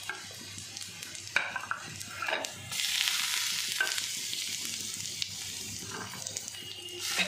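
Onion, green chili and garlic frying in a pan, a steady close sizzle with stirring scrapes and clinks, the hiss swelling louder midway and staying busy to the end.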